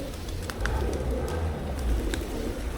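Pigeons coo softly in low, rounded murmurs amid a busy flock in Adana, Turkey, with occasional light chirps and flutters over a rumbling background.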